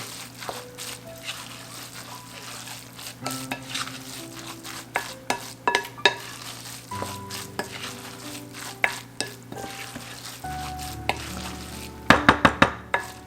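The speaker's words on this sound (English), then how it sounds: "let's give it another stir" A spoon stirs and scrapes food around a pan of sizzling vegetables, with repeated clinks and scrapes over a steady low sizzle and hum, ending in a quick flurry of sharp metallic taps; no talking.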